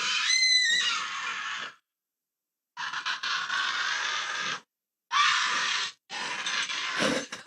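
A loud, high-pitched scream in the style of a horror film, coming in several sustained bursts with short silent gaps between them, close and shrill, with no talking.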